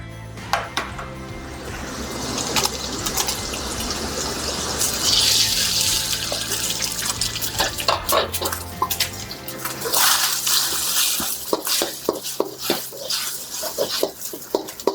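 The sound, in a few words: egg frying in oil with garlic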